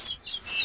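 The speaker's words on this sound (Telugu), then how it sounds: "చిన్న కోడిపిల్లలు ఉన్నాయి కదా" Month-old chicks, white farm birds and Giriraja chicks kept on a city terrace farm, give thin, high chirps in a brief close burst, with a short gap before the peeping resumes.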